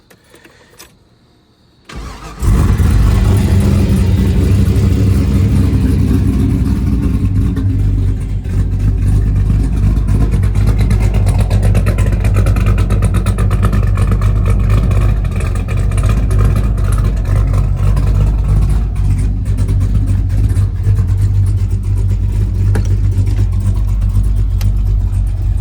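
A race car engine at 304 Motorsports Park fires up after a short quiet moment, then roars loud and continuous with a deep low rumble and rising, falling revs throughout.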